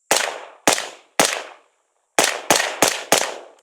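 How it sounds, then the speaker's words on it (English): An 11.5-inch gas-operated rifle firing Monarch brass-cased 55-grain FMJ ammunition: three evenly spaced sharp, loud shots ring out, then after a pause four more come in quicker succession, each with a short decaying tail. "I should mention we're shooting Monarch brass 55 grain FMJ, so pretty cheap ammo"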